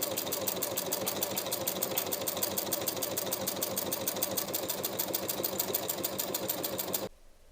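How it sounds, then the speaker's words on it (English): A sewing machine runs a zigzag edge stitch along the raw inside hem of a summer tank top, a fast, even, steady rattle of needle strokes that continues for about seven seconds and then stops abruptly. "I'll edge stitch along that raw edge on the inside all the way around with a zigzag stitch."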